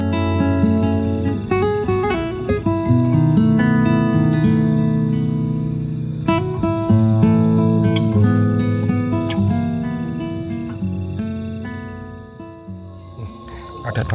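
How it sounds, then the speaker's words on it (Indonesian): Cicadas buzz at night at a motorcycle campsite near Surabaya, a loud, shrill drone of layered insect tones that swells and shifts, then thins toward the end. "Ada tonggeret cuy."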